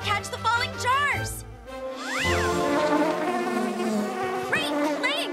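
Cartoonish buzzing of mechanical bees in the cartoon Animal Mechanicals hums continuously, mixed with squeaky chirps and sliding tones.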